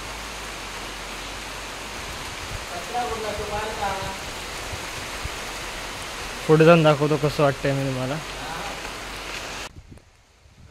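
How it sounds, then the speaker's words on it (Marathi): Steady hiss of the first monsoon rain falling around a village house in Konkan, a continuous even wash under a man's speech, which comes in short bursts partway through. "पहिला पाऊस लागतोय"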